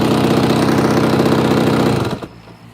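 A small gas engine being tuned idles steadily and loudly up close, a continuous even rumble with a fine rhythmic knock, then cuts off abruptly near the end, leaving near silence.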